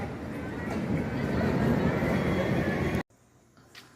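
Train at a railway station while changing trains, a loud broad rumble of rolling stock and station noise that cuts off abruptly near the end to a quiet background.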